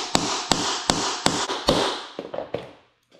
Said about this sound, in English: Then we're going to take our hammer.